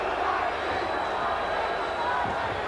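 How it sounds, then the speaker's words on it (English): Arena crowd at a Reno boxing match between Michael Nunn and Iran Barkley, a steady dense roar of many voices with chanting woven through, continuous and fairly loud for the whole stretch. "some of this crowd picking up the chant for Iran Barkley"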